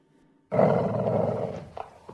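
A dog growls and roars loudly and close in an audio drama, a sudden rumbling snarl that starts after a short silence and fades out after about a second and a half.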